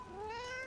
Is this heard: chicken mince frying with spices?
no